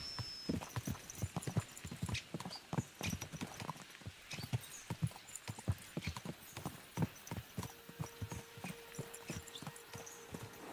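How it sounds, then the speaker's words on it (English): Horses galloping in the video game Kingdom Come: Deliverance 2, a rapid run of hoofbeats clattering in uneven rhythm, fairly close, with a brief whinny and a faint tone near the end. "Let's really spur these horses on, eh?"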